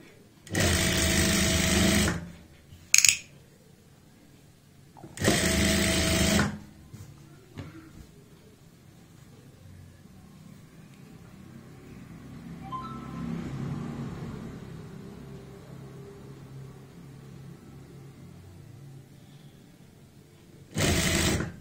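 A sewing machine stitches lace onto the neckline of a kurti in three short loud bursts, with quiet handling and low talk in between.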